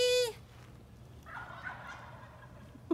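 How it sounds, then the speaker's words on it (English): Wild turkeys out in the open at sunset give a short, rapid gobble at the start, then fainter distant calls follow over quiet outdoor ambience. "There's turkeys back there."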